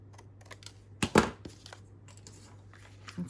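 Scissors or a craft knife cutting out fabric or paper pocket pieces for a double-loaded pocket, a sharp cluster of close snips near one second, then a few faint scattered cuts and rustles in a quiet room with a low steady hum.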